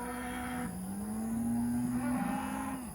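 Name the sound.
cattle mooing while being moved on pasture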